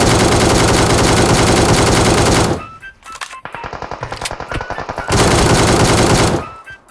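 Gunfire in the mobile battle royale game PUBG Mobile comes as loud sustained automatic bursts, broken in the middle by a stretch of quicker separate shots before another long burst.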